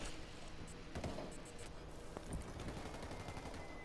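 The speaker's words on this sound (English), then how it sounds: "He's getting mortared." Mortar strikes in the video game Ghost Recon Wildlands, heard as a dense, continuous crackle of gunfire and explosions with a few sharper impacts and no voices.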